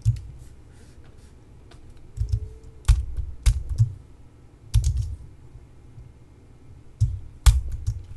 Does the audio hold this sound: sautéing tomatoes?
no